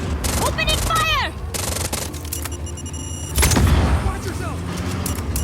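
Gunfire in Just Cause 4 crackles in loud bursts amid booms and engine noise, with a fresh heavy blast midway, while voices call out over the chaotic firefight.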